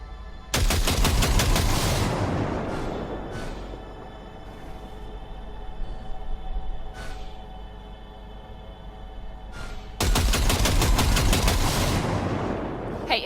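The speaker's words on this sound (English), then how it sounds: "See that pile of junk? Fire a short burst into it." Automatic rifle bursts fired during weapon calibration in Cyberpunk 2077, two loud sustained bursts at the start and end, with a few faint single shots and low game ambience in between.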